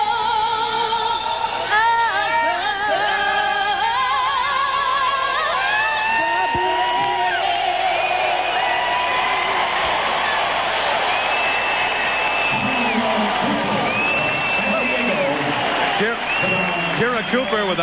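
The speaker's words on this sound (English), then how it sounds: "the huge crowd is in quite an electric mood right now" A huge baseball stadium crowd at a 1998 playoff game roars and cheers right after the national anthem, with sustained loud applause, whoops and whistles filling the air.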